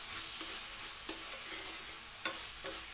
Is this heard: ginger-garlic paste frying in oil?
yes